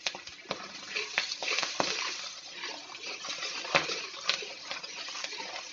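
Ground coriander, cumin, turmeric, dried chilli and salt fry in hot oil for a Bengali egg curry, a steady close sizzle broken by occasional clinks and stirring scrapes.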